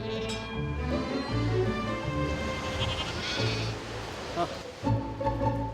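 Black goats bleat together on a farm in Jirisan's mountains, several overlapping cries rising close by in a busy chorus, with rustling and movement of the herd throughout.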